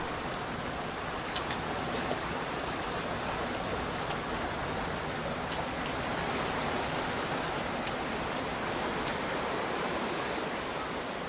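A mountain torrent rushing through a rocky bar in the Pyrenees gives a steady, dense roar of water that fills the whole clip without letup, close and even in level, with no voices.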